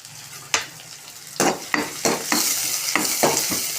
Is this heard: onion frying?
yes